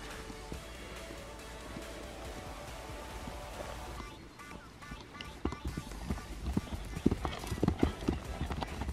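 A horse canters on a cross country course, hoofbeats starting faint and then growing into a rhythmic, closer thudding, with people talking over it.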